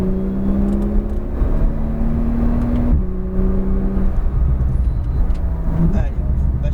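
A Porsche 911 Turbo S driven on the La Ferté-Gaucher race circuit, its engine note climbing steadily and dropping twice at gear changes, heard from inside the car with a voice speaking over it.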